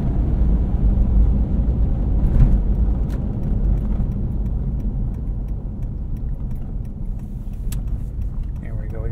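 Toyota 4Runner driving over big bumps, a steady low engine and road rumble with a few sharp knocks from the suspension, close and continuous, while someone talks over it.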